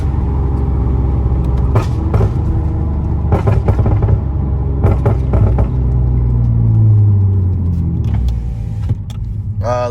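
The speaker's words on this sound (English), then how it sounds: "I just passed a police station doing the freaking pops and bangs." A 7th-generation Nissan Maxima with aftermarket headers rumbles loudly from close by as its exhaust crackles with sharp pops and bangs in clustered bursts, the engine note swelling and dropping.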